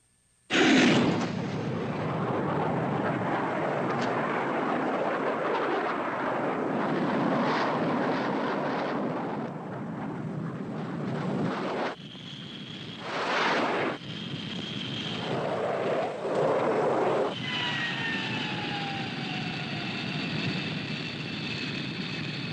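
A jet aircraft roars past in the 1955 science-fiction film This Island Earth. A loud, sustained engine rush sets in abruptly and breaks into shorter surges near the end, with thin whining tones over the noise.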